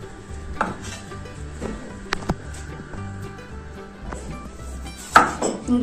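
Soft knife taps on a cutting board while chopping tomatoes, irregular and close, with a sharper clatter near the end.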